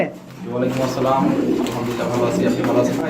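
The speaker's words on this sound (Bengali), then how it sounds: "ফেন্সি কবুতর খামারে তো আপনারা দেখতেই পাচ্ছেন এখানে অসংখ্য ফেন্সি কবুতর রয়েছে" Fancy pigeons, Danish and American fantails, fill a farm loft with close, continuous low cooing, with voices in the background.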